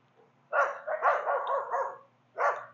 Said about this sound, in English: there's some dogs barking over the other side.